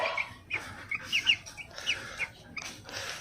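Several chickens cluck and squawk in short bursts, fairly close, with no talking.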